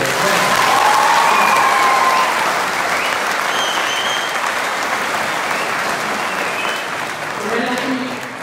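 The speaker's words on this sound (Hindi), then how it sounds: "आखिर में अपने लिए पूरी जोर से दिमाग वाली तालियां अपने लिए" An audience at a speech bursts into loud, sustained applause that stays dense and steady for several seconds before tapering slightly, with faint crowd murmur underneath.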